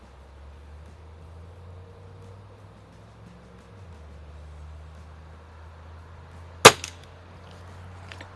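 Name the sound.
Cometa 300 .177 break barrel air rifle shot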